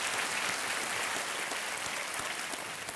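Steady, dense applause from a television game-show studio audience welcoming a contestant, sustained and even throughout with no break.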